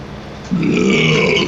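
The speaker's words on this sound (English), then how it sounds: "I apologize for burping in you guys' ears." A single loud, drawn-out burp rumbles up suddenly and holds for about a second, close to the microphone and alone without talk.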